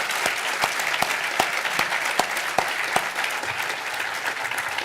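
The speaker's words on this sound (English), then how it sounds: "How about one more round of applause for the Old Guard Fife and Drum Corps?" Audience applause at an induction ceremony honoring a military fife and drum corps, a steady, dense wash of clapping from a sizable crowd with a few sharper claps standing out, lasting throughout without talk.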